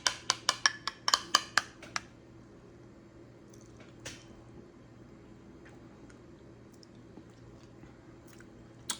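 Homemade thick Greek yogurt is eaten with a spoon, giving a quick burst of about ten sharp spoon clicks and mouth sounds at the start, then near silence broken by a few faint taps.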